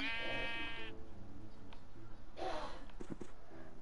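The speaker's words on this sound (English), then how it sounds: "More sheep!" Minecraft sheep let out a clear, close bleat at the start, followed by softer game sounds and a few short thumps, with no talking.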